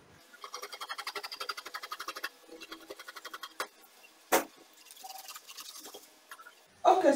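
Scissors cut through fabric for an off-shoulder puff sleeve in a series of close, soft snipping and scraping strokes with short pauses and a couple of sharp knocks.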